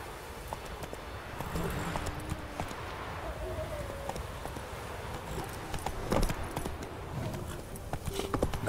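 Roach the horse galloping in The Witcher 3, a steady rhythmic clip-clop of hooves with jingling tack over quiet ambient game sound, fairly close and moderate in level.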